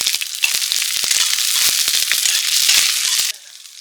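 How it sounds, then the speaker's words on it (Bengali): Garlic frying in hot oil with chili and black cumin: a loud, close, continuous sizzle full of rapid crackling pops that stops abruptly just before the end, leaving a softer hiss. "রসুনটা একটু লাল করে ভাজিয়ে নিতে হয়"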